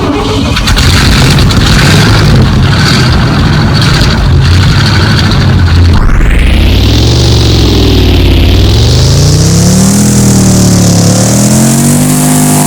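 A 1967 Cadillac Eldorado in the video game Driving Empire is started: a loud steady idle runs for several seconds, then the engine revs up, dips and climbs again in a rising, wavering roar.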